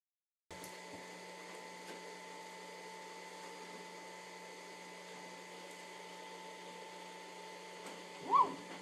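A NymoLabs NBX-5040 CNC milling machine lowers its spindle during Z-probe zeroing, giving a steady, fairly quiet motor whine with a constant tonal hum and a brief louder bump just before it ends.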